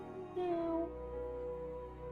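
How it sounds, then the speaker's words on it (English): Small tiger meow sound effect in a tabletop game, a single short cat-like meow over a soft background hum. "You hear a small tiger."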